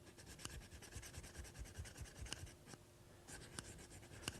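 Fine diamond sharpening plate drawn along the bevel of a woodworking blade, a steady close scratchy rasp in quick repeated strokes with a few sharper ticks, alone without talk.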